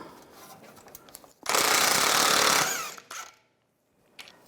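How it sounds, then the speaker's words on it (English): An impact or power tool bursts loudly for about a second while a 22mm socket spins a nut off the front suspension of a 2004-2010 BMW X3, followed by a short rattle and quiet. "Remove this nut right here, use a 22mm socket."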